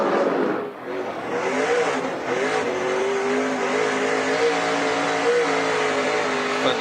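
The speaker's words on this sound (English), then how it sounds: "Fun to listen to him use that throttle through there" Race car engine at Eldora Speedway dirt track during the SRX Series, throttle rising and falling as the driver works it through a corner, a loud continuous roar with shifting pitch and no talk over it.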